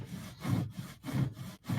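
Sawing heard off-screen during a livestream, a near back-and-forth rasp in steady strokes, roughly four to five passes with brief gaps between them and no talk over it.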